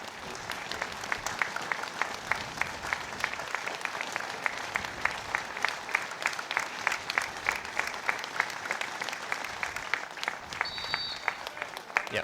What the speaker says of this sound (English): a brilliant moment of applause there observed by everyone in the ground